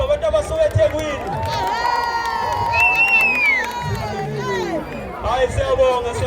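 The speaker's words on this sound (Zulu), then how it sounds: "Sicela nibashayele ihlombe abantu abasuka eThekwini." Crowd at an event in Bes'la cheering and shouting to welcome guests from Durban, with loud voices, whoops and a rising whistle-like shout over a steady hubbub of chatter and movement.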